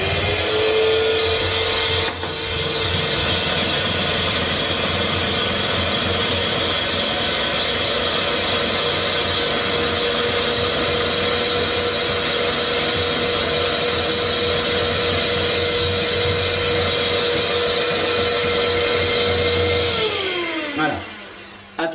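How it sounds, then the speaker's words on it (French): An electric mixer beating egg whites with sugar at maximum speed for a French Yule log, whirring as one steady, loud, continuous drone that winds down near the end. "vous allez prendre votre sucre, vous allez relancer votre batteur et vous serrez, ça s'appelle en termes de cuisine, serrer les blancs"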